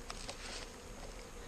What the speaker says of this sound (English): it makes it easier to hive the bees because all we do is dump them in the false floor